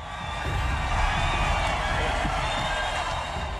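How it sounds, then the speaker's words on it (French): Crowd roaring and cheering at an IndyCar race as Helio Castroneves climbs the fence after winning, a dense, steady wash of distant voices holding level throughout with no clear talk over it. "Écoutez la foule!"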